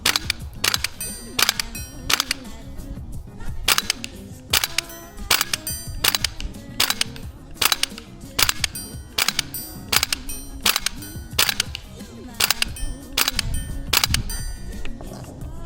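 An airsoft XM7 rifle fires BBs in semi-auto, giving about twenty sharp snapping shots at a steady, unhurried pace, close and crisp, with faint outdoor background between shots.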